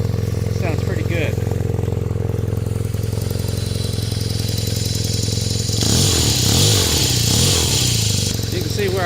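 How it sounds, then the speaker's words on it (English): BMW R nineT boxer motorcycle with its stock muffler, a steady low idle throb that swells into a louder, rougher rev partway through; a voice talks over the engine. "It actually sounds really good with the stock muffler."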